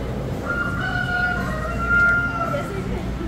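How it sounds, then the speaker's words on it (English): A rooster crows at a distance in a drawn-out call, fairly faint over a steady low background rumble, with no talk in the clip. "Oh, that rooster's crowing."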